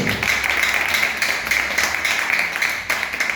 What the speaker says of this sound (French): je vous demande de l'applaudir, Renaldo Polo